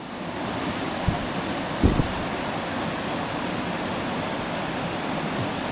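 The East Lyn river on Exmoor rushes beneath a bridge in a steady, dense wash of flowing water, close and continuous, with a couple of brief low knocks near the start and no voices.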